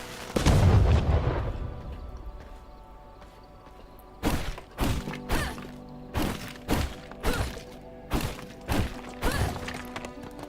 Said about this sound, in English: Is that area of explosion actually accurate that it shows?